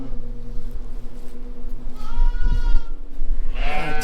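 During lambing season, a sheep bleats loudly right at the microphone with a wavering, quavering call, then another bleat follows near the end, over rustling and low background noise.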